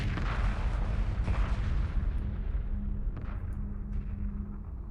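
Space battle weapons fire from a Homeworld Remastered 2v2 match, with corvettes, attack bombers and interceptors fighting: a dense, continuous barrage of booming, artillery-like blasts and bursts, loud and steady throughout, with no speech.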